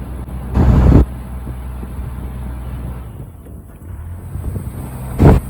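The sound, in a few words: wind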